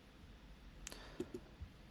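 A couple of faint computer mouse clicks in a quiet room, sharp brief ticks around the middle of the moment with a softer one after, no talking.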